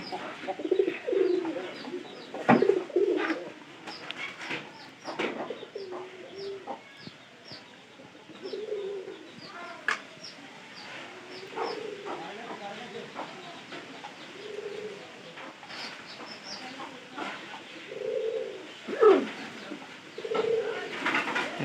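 Several pigeons coo over and over in low, throaty bursts, close up, with occasional faint chirps and rustling between calls.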